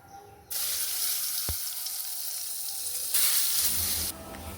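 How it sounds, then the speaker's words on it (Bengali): Brinjal (eggplant) slices frying in a pan, a steady close sizzle with brief quieter gaps and a single low thump partway through, no voices. "এদিকে হচ্ছে বেগুন ভাজা"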